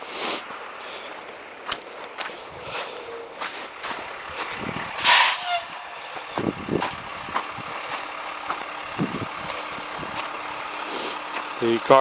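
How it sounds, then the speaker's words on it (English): A garbage truck arrives in the background of an outdoor walk through grass during a thaw, with a short, loud air-brake hiss near the middle over distant engine rumble and nearby footsteps. "The garbage truck has arrived in the background."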